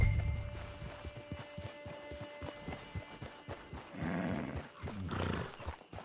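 Horse hooves clip-clop steadily at a walking pace, close by, followed by a snorting whinny near the end, in Red Dead Redemption 2 Online.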